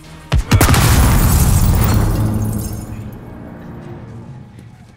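A bomb goes off in Call of Duty: Modern Warfare: sharp cracks give way to a huge, close roaring explosion that slowly dies away into a rumbling tail.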